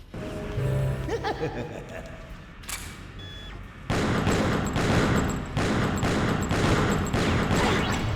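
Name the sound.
gunshots in the video game Killer7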